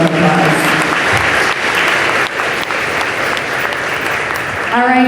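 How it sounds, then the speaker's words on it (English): Sustained applause from a school audience at an 8th grade promotion ceremony, steady and dense throughout, with some voices and cheers mixed into the clapping. "Let's give them a round of applause."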